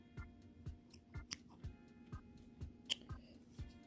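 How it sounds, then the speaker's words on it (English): Scissors snip crochet yarn on a halter dress in a series of faint, quiet clicks and cuts spaced about half a second apart, with a couple of sharper ticks. "Then you cut your work."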